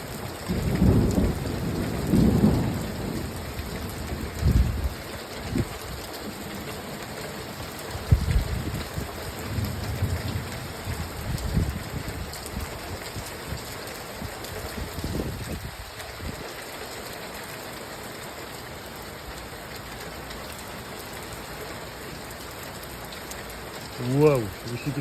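Heavy rain pours steadily during a motorcycle ride in a storm, with deep thunder rumbles rolling in near the start and again around the middle, then a steady wash of rain continuing to the end.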